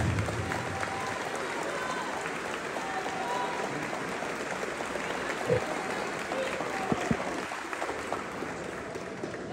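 An audience at a university event in Limonade applauds a speaker, a steady wash of many hands clapping with a few louder claps and some crowd noise underneath.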